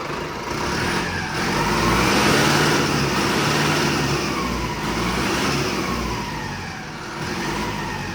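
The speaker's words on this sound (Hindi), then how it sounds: "भाई टर्बो की गजब साउंड आ रही है।" Mahindra Arjun NOVO 605 tractor diesel engine fitted with a new turbo runs steadily close by, a loud sustained mid-pitched drone with a rising and falling whine and slight revving swells, with no talking.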